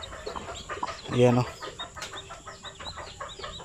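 Native chickens on a small farm cluck and call in short, irregular bursts close by, with one louder squawk rising in the middle while someone speaks briefly over the flock.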